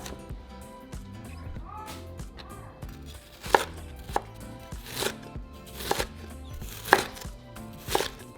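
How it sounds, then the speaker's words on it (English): A knife slices half an onion into strips on a cutting board, sounding as a string of crisp, irregular chops over soft background music. "we're going to slice half of our onion"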